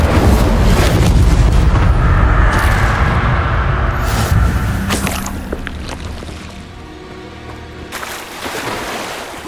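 An Incendio fire spell in Hogwarts Legacy gives a loud sustained roaring rush of flame that booms at the start, then thins into crackling and fades over several seconds with no talking.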